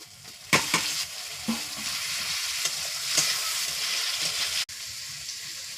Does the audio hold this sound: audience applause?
no